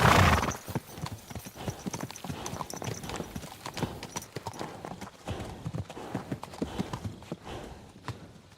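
Hooves of a ridden horse in a medieval video game pound in a quick, steady clip-clop, loud and close after a brief burst at the start, with hints of a whinny in the mix.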